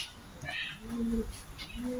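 Soft, low pigeon cooing in a few drawn-out phrases, with faint chirps and light background noise, no talking.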